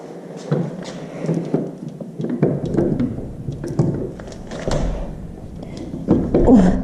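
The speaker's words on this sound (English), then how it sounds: "This door is really heavy." A heavy sliding door rumbles and thuds along its track with several bumps and knocks, close and fairly loud.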